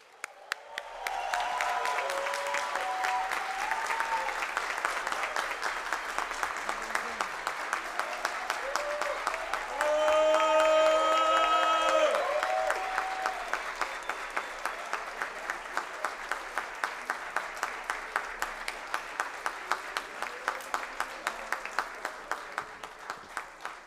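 A ceremonial audience, asked to stand, gives a long ovation to the guest of honour at a Tiradentes Medal solemn session, with steady crowd clapping and some cheering over music, swelling mid-way and continuing throughout.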